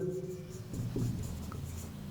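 Chalk or marker writing on a board in a grammar lesson, a steady scratchy stroke sound running close and moderately loud for about two seconds with no talk.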